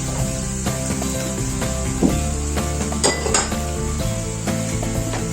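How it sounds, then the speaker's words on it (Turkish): Carrots fry in a pan for a pea stew, a continuous close sizzle with scattered clinks and scrapes from a utensil stirring against the pan, no voices. "Biraz kavrulsun havuç."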